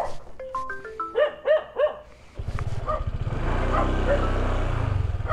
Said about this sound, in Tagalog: Papalibutan na ako ng mga aso dito ah.